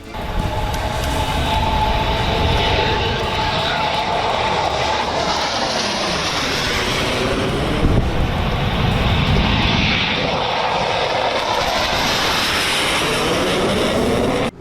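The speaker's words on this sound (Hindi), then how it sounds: "गंगा एक्सप्रेसवे पर फाइटर जेट की लैंडिंग और टेक ऑफ का रिहर्सल किया गया।" Fighter jets such as Rafale, MiG and Jaguar rehearsing landings and take-offs on the Ganga Expressway in Shahjahanpur, Uttar Pradesh, a loud continuous engine roar with rising and falling swells throughout, no talk.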